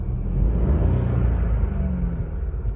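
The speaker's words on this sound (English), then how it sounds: "And give it a little rev." A 2020 SEAT Ibiza FR 1.0 TSI engine revs in a low, rumbling surge that swells and holds steady, close and fairly loud, with no talking.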